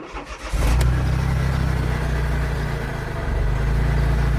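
A Smart Roadster Brabus engine starts at the push of a start button: a quiet lead-in, then a sudden catch into a steady, throbbing idle that holds close by.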